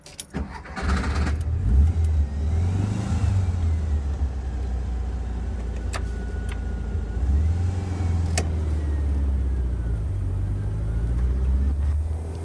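A 1964 Karmann Ghia engine, in need of tuning, runs steadily up close, its low rumble swelling as it revs several times, with a few faint clicks over the drone.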